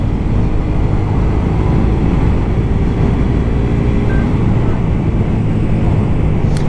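A motorcycle on the road near Aix drones with a steady, loud engine rumble buried under heavy, constant wind buffeting against the microphone, with no pauses throughout.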